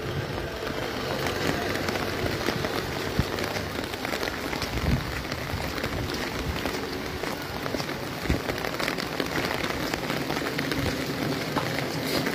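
Steady heavy rain falls on a waterlogged street in Comilla, with wind adding to a continuous dense hiss and scattered louder drops, close and unbroken throughout, with no talking.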